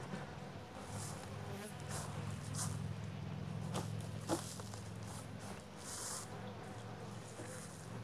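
Honey bees buzzing around an open hive during an inspection, a faint, steady low hum with scattered brief louder passes close by, no voices.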